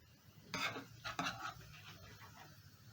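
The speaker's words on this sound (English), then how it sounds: "I'm going to scoop out my fish" Scooping fish stew out of a pan with a spoon, giving a couple of soft scraping, clinking contacts close by, followed by quieter handling noises with no talk.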